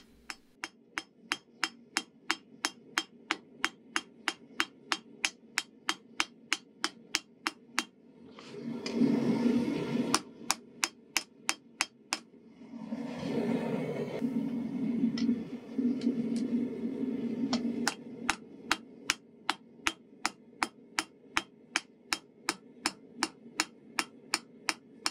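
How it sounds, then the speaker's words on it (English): A hammer forges the spine curve of a steel hunting knife blade on an anvil with steady, ringing strikes at a regular pace. Two stretches of louder roaring noise interrupt the rhythm before the hammering resumes. "I now hammer in a curve on the spine area"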